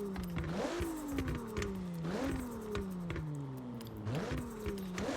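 The turbocharged, tuned Ferrari F80 build in Forza Horizon accelerates through three rising sweeps, each ending in a gear shift and a dip in pitch, a steady engine roar with no talk.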